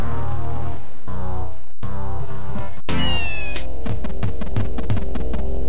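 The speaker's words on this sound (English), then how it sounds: "That little cat has wandered into here." A cat in the video game Wario Land 4 meows loudly several times in sharp, synthetic game-audio bursts, with no talking over it.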